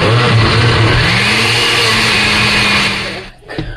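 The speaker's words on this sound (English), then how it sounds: "I'm going to go ahead and blend it up now in my blender." A kitchen blender purees cooked Ghanaian light soup ingredients with a loud, steady motor whir that dips and stops near the end, followed by a brief clatter.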